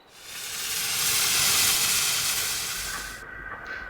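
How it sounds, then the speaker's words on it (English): A steady, fairly loud hiss of steam from the small engine Edward builds for about three seconds, then cuts off sharply, leaving a faint lingering tone. "So the fireman lit the fire and made a nice lot of steam."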